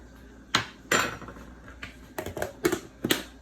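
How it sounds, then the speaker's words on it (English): Utensil scooping butter out of a container, a string of close clinks and scraping knocks against the dish, irregular at first and then quicker toward the end. "we're gonna start by scooping out the butter"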